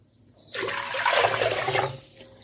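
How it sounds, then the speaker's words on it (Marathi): Water pours into a vessel being filled for rice dough, a sudden gushing stream lasting over a second before trailing off to a trickle, close and loud. "मी 2 पातेले पाणी याच्यामध्ये घेते"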